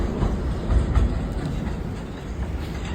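A New York train heading toward Rockaway Beach rolls along with a loud, close rumble and rhythmic clickety-clack of wheels over rail joints, no voices heard.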